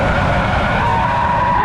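The tyres of a rear-wheel-drive Audi R8 squeal loudly and steadily as the car slides, and engine roar sits underneath. The skid is close, brief and unbroken, with a rising whine toward the end and no voices.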